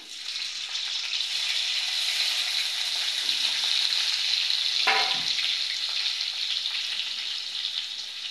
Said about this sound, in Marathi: हा मी खडा मसाला यामध्ये घालणार पहिल्यांदा। त्यानंतर हा कांदा आहे तो घालणार।